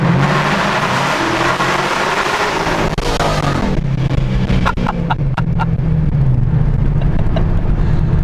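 A 2014 Paxton supercharged automatic Mustang GT with straight-piped exhaust accelerates hard inside a tunnel, a loud, echoing engine roar that builds and then drops into rapid, crackling pops as it shifts and changes pitch.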